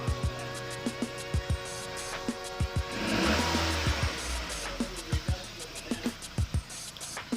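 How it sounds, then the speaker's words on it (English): A car idles steadily after an oxygen sensor repair that cleared fault code P0134, a smooth continuous engine drone with a brief swell of noise in the middle and sharp clicks and knocks scattered over it. "Right now the vehicle is running smooth."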